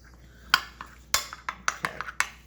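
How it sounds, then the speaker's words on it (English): Blueberries being mixed with cornstarch in a bowl for a pie filling give a series of sharp, close spoon-against-bowl clinks and taps at an uneven rhythm, with no talking. "Let's mix this together."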